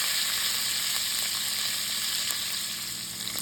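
Cabbage fries in a skillet with a dense, steady sizzle and a crackling hiss close by. A few faint stirring clicks sound underneath, and no one speaks.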